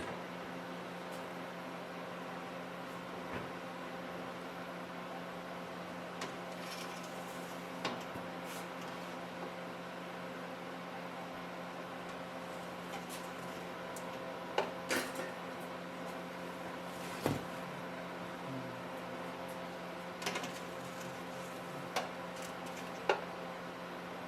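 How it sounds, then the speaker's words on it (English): Freeze dryer running in candy mode, a quiet steady mechanical hum with faint scattered ticks and clicks. "Let's load the food into the freeze dryer, and we are going to turn this process on for the candy."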